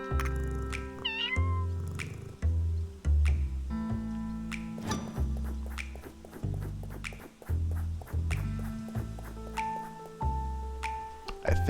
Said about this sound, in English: I think I see a cat hiding in that bush.